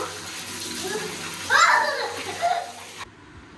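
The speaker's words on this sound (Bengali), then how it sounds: "এই পানিটা ফেলে দেই বালতিতে" Hot water splashes and pours into a bucket for a few seconds while a child and an adult talk nearby, then it stops abruptly.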